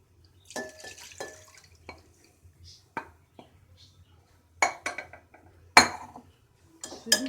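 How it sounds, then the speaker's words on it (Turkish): Peppers being strained into a separate bowl while making quick Turkish pickles: scattered clinks of dishes and utensils, soft drips and splashes in short bursts separated by near-silence, close and fairly quiet. "Şimdi biberlerimizi süzüyoruz. Ayrı bir kapta."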